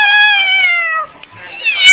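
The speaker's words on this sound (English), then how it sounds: "Go meow." A cat meows loudly and close by, one long drawn-out meow followed by a brief pause and a second rising meow, with no talking over it.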